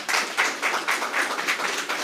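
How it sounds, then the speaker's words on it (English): An audience applauds at the annual Oscar Allen Memorial Emancipation Lecture: steady, dense clapping that swells in rhythmic waves across the short stretch, heard without voices. "I think they deserve a round of applause"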